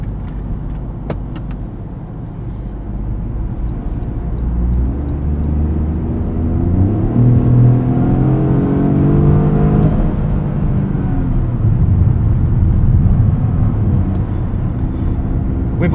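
A 2025 Toyota GR Corolla with a 1.6-liter turbocharged three-cylinder engine and an 8-speed automatic is heard from the cabin while driving. The engine gives a loud, continuous drone that rises and falls slightly in pitch. No talking.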